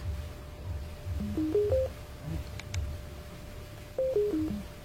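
A short rising sequence of electronic tones from an Earfun Uboom L Bluetooth speaker powering on, followed by a couple of faint clicks and then a falling tone sequence, all fairly quiet.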